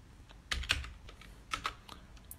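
Computer keyboard typing in two short bursts of quick, close keystrokes with a pause between, fairly quiet and with no voices, as a command-line metadata tool is used on image files.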